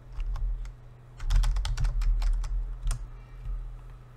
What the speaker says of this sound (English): and we type go